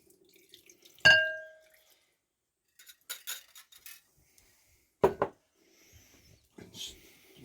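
Cinnamon-laced water poured into a bowl for banana bread pudding, a sharp clink of a utensil against the bowl followed by scattered splashing and brief whisking scrapes, close and fairly quiet with no talking.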